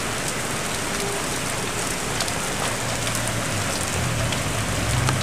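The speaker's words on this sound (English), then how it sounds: "it's raining pretty hard out here" Heavy rain pours down outdoors during a rainstorm, a dense, constant hiss of drops striking surfaces, close and loud throughout with no speech.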